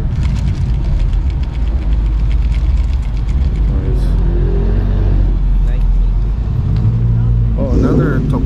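A Toyota Tacoma pickup truck rumbles past at a JDM car meet in Fremont, California, its loud low engine drone steady throughout, with people talking over it near the end.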